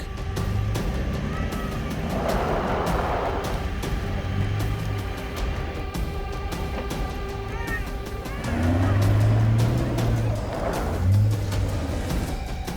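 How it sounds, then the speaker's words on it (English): A 40-ton truck labouring through deep sand, its engine a steady, heavy drone with surges of effort, close and continuous throughout. "the deep sand is hard work for a 4x4, let alone a 40-ton truck"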